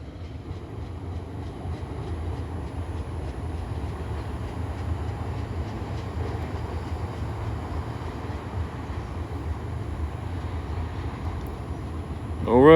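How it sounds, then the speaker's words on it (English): A long freight train with potash cars rumbles past steadily, a continuous low rolling roar with faint wheel clatter throughout, swelling louder at the very end. "That's that train right there."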